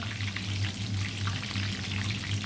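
Vegetables stir-frying briefly in oil for a Chinese dinner, giving a steady, close sizzle and crackle throughout with a low hum underneath and no talking.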